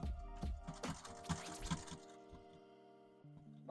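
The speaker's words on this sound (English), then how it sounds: "So I'm gonna go ahead and start sewing" A sewing machine stitches a first seam in fabric, its motor running in quick rhythmic bursts close by, then slowing and easing to a softer hum toward the end, with no voices.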